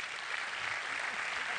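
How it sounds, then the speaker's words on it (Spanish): An audience at an innovation event in Tijuana applauds steadily to welcome a speaker onstage, a dense, even wash of clapping with no voices over it. "Demos la bienvenida con un fuerte aplauso"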